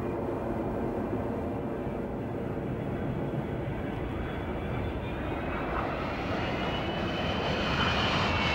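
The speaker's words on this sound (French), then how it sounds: "Tour de contrôle à A320. Permission d'atterrir sur la piste 7." Airbus A320 airliner landing on a runway, a loud continuous jet engine roar with a rising whine toward the end, close and sustained with no voices.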